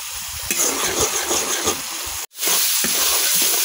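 Spice paste with coriander powder and salt sizzles in oil in a pan for a village-style fish curry, giving a steady frying hiss with stirring. The sound cuts out briefly near the middle, then resumes.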